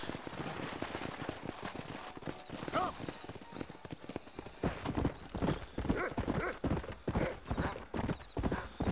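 Horse hooves clip-clopping steadily in Red Dead Redemption 2, a continuous trotting rhythm up close with a brief whinny mixed in and game ambience beneath, no talk.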